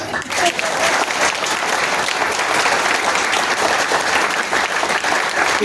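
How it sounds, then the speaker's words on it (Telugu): A crowd at a devotional discourse claps hard and steadily, a thick wash of applause that holds at full strength from start to finish. "చప్పట్లు కొట్టడానికి కూడా మా మాట గట్టిగా."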